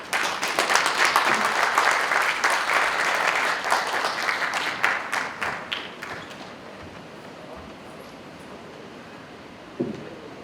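An audience applauds to welcome a lecturer at a special lecture, dense clapping from the start that thins and fades to a few scattered claps by the end.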